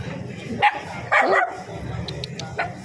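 A dog barks twice with short, fairly near yaps over a quiet background murmur, followed by a few faint high clicks.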